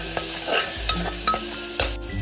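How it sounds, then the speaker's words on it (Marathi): Green peas sautéing with ground masala paste for mattar pulao, a steady low sizzle broken by several light spoon scrapes against the pan. "हे सगळं अगदी छान असं परतून घेऊयात।"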